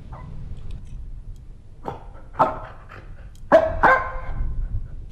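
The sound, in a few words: dog barking in a horror video game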